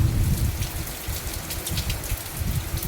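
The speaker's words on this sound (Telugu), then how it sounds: "వర్షం ఫుల్ వర్షం పడుతుంది" Steady heavy rain pouring down, a dense continuous hiss of drops with no voices.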